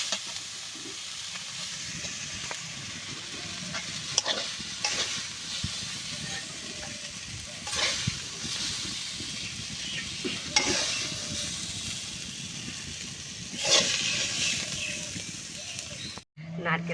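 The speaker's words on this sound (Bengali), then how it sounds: "সাবধানে সুন্দর করে ভেজে নেব।" Shak greens frying in mustard oil in a kadai with salt and turmeric, a steady sizzle and hiss under repeated scraping stirs, close and continuous, ending in a brief cutoff.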